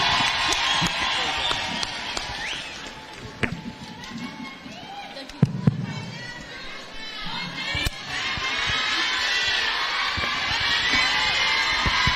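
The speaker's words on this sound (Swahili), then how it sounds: "naomba msimame tumkaribishe our next president kwa kishindo na vigelegele" A crowd at a women's political conference in Nairobi rises in cheering and high ululation to welcome a speaker, a sustained, fairly loud wash of voices with scattered sharp claps and knocks.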